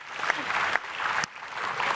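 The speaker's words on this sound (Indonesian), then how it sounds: "Tepuk tangan sekali lagi dong untuk Kiai Haji Tio Iskandar." Studio audience applause in a television talk show, a dense burst of clapping that briefly dips midway then swells again, close and filling the room.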